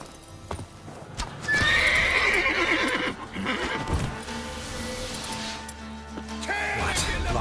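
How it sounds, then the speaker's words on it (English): A horse in The Witcher video game whinnies loudly while its hooves clop and scrape on the ground, with a voice speaking over the animal sounds. "Whoa there, Roach."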